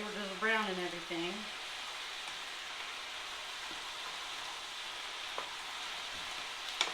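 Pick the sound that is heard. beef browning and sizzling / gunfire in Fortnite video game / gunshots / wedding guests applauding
beef browning and sizzling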